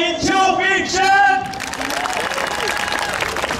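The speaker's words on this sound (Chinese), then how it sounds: "让我们掌声欢迎" Audience at a freestyle roller skating championship in Taipei bursting into steady applause with some cheering, filling the hall right after an announcer's amplified voice.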